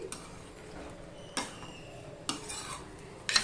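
Bottle gourd being stirred with salt and turmeric in a pan, quiet scraping under a faint low sizzle, punctuated by a few sharp clinks of the spoon against the pan.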